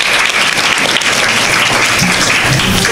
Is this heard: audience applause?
yes